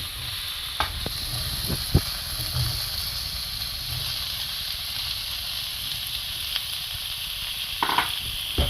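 Fish head and bottle gourd are stirred in a hot pan: a steady, close sizzle with a few sharp spoon clinks and scrapes against the metal. No one speaks.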